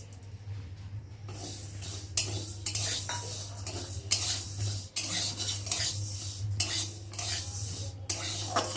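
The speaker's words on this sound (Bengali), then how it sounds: "আর এখন আমি মুগ ডালগুলোকে দিয়ে ভালো করে ভেজে নেবো" Mung dal dry-roasting in a hot kadai, stirred with a utensil that scrapes and clinks against the metal in repeated strokes, with a faint sizzle and a steady low hum beneath, close up and without talking.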